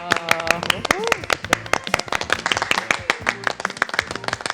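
An audience at a Korean morning-show autumn art lecture on opera history claps to welcome the speaker, with sharp, close claps mixed with voices and a host talking over them.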